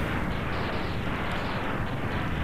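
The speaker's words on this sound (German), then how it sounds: "Komm, explodier doch mal." A boss in the Mega Man X video game blows up in a dense, continuous rumbling burst of explosion noise, loud and unbroken throughout with no talk.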